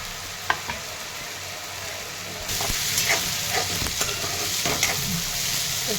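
Dry potato sabzi with green chillies and garam masala sizzles steadily in a pan while a spoon stirs it, scraping and tapping. The frying grows louder partway through, with no talking.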